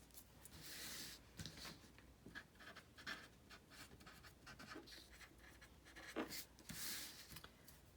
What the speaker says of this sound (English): Now let me just write a few things down.